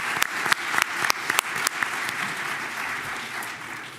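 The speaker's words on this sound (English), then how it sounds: "A round of applause for them" Audience applause at the Toronto Region Board of Trade mayoral debate, a few sharp, close claps ringing out over a broader round of clapping that gradually thins and fades toward the end.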